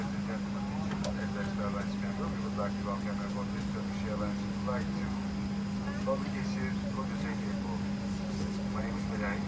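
Steady loud engine drone with a constant low hum fills an airplane cabin during takeoff, while people murmur and talk over it throughout.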